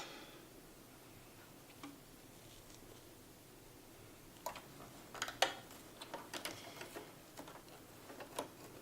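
Sewing machine stitching fabric for a scrunchie, starting faint and then breaking into short bursts of rapid mechanical ticking and clicking, close and fairly quiet.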